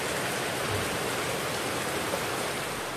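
Steady rain pours down in an even, dense hiss, fairly close and continuous, with no talking.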